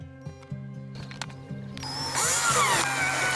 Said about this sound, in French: on enlève le cordeau et on finit de visser les vis entièrement